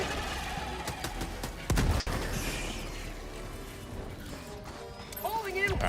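In a video game, a grenade explodes with a heavy burst of noise, set against steady gunfire and battle noise throughout, with a voice talking under the action.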